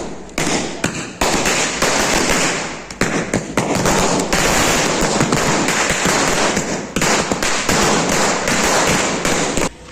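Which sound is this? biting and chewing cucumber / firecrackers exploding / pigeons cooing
firecrackers exploding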